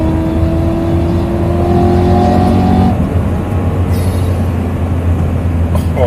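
A supercharged BMW E92 M3 engine pulls hard under acceleration, a loud, steady close-up roar whose pitch climbs and then drops at a gear change around the midpoint, with no talking.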